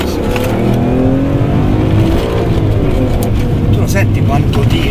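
BMW M3 E46 engine revving hard under acceleration from inside the car, a loud continuous rising howl with climbing pitch and short gear-change dips, while a person talks over it.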